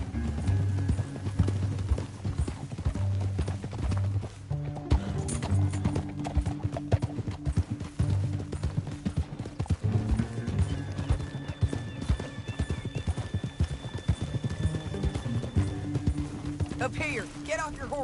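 Horses gallop in Red Dead Redemption 2, with steady rapid hoofbeats and occasional neighs running throughout, while characters talk over the riding and other game sounds.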